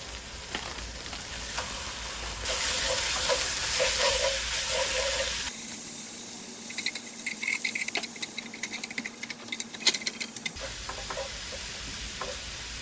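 Sliced meat and onion for Vietnamese bun cha sizzle and crackle steadily in a hot pan, a loud continuous fry with occasional stirring scrapes and rattles, no voices.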